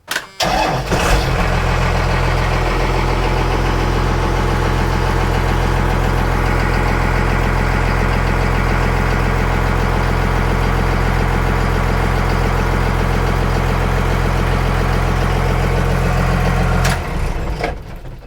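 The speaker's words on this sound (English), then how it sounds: "So there it is, the truck on, doors closed, bare floor." Inside the cab of a First Gen Cummins truck with doors closed and a bare metal floor, the diesel engine starts with a brief crank, then idles in a loud, steady low rumble, and shuts off near the end.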